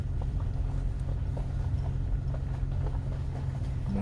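Horse hooves clip-clop on a mountain trail in a steady, fairly close walking rhythm over a low rumbling background, with no talk.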